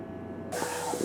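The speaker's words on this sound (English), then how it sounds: "Apologise for the noise, obviously we're trying to dry out a headlight." Beside an Audi TT in a workshop, a blower switches on abruptly halfway through, drying out a car headlight with a steady, broad, loud hissing rush that follows a quieter hum.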